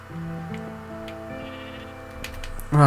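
A sheep in Minecraft Legacy Console Edition gives a few steady, close bleats with sustained tonal game sounds behind them and a louder burst at the end; nobody speaks.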